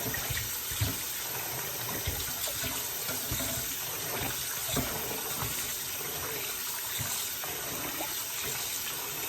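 Tap water runs steadily into a sink while tripe is being cleaned, a continuous close splashing hiss with small irregular spatters and clunks and no talking.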